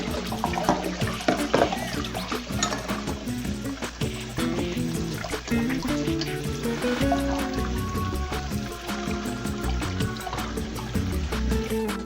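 Seitan gluten dough is kneaded and washed in water, with continuous sloshing, squishing and trickling close up as the dough is worked.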